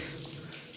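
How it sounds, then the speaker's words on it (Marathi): Water falls and trickles inside a cave at a hill fort, a brief, close, continuous splashing wash with no voices. "बाकी इकडे इथं पाणी पडत आहे आणि ही गुफा आहे."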